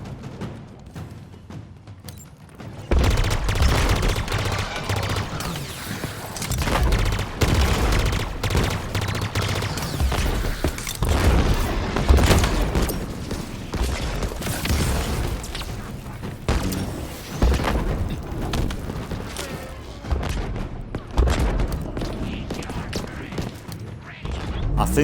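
Rapid bursts of automatic gunfire and heavy booms from Halo Infinite on Legendary difficulty pound loudly and almost continuously, with brief gaps between volleys after a quiet opening.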